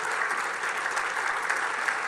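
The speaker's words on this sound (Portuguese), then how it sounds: "Aplauda o Senhor Jesus vitorioso." Steady, dense applause from a church congregation during a sermon, a continuous wash of clapping at even loudness throughout with no talk over it.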